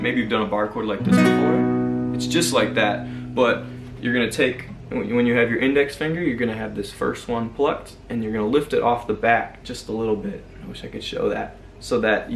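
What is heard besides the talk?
No everyday noise stands out behind the speech.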